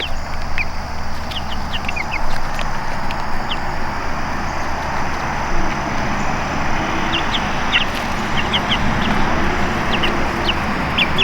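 Backyard chickens cluck and chatter continuously, mixed with other bird calls, over a steady outdoor background hum near the coop.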